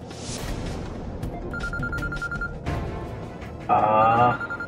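A phone ringtone plays a repeating electronic melody, with a louder burst near the end, over background chatter and room noise.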